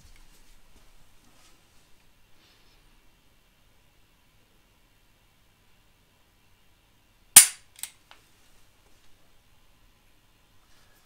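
A pistol trigger snaps once in dry-fire practice with a MantisX shot-tracking system, a sharp isolated click with a quick second tick just after, in an otherwise silent room.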